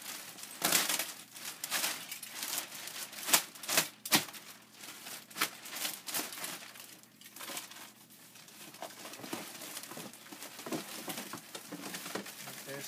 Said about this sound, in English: I'm just going to cut open the plastic and take pieces out